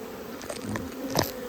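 Honey bees buzz close by at a hive in short, rising bursts, with a louder pass near the end; no one speaks.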